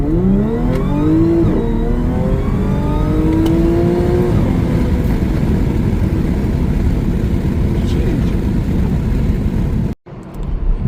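Car accelerating with traction control off at about 2300 rpm after a transmission control unit tune, engine note rising steadily through several gear-like sweeps, loud and close, then a brief cutout near the end.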